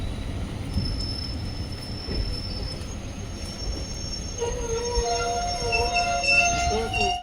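A passenger train on the Madgaon to Londa line rolls into Castle Rock railway station, with steady low rumble building into high, sustained wheel squeals near the end; faint voices murmur in the background.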